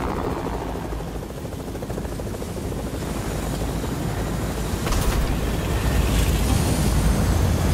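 A helicopter in the video game Fortnite flies with a continuous loud rotor roar and whooshing rumble that builds slightly over several seconds, with no talking.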